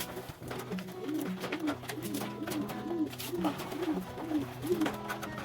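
Soft pigeon cooing repeats in a steady rhythm, several calls in a row, over light background noise and occasional clicks.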